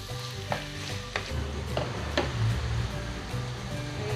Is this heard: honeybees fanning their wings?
no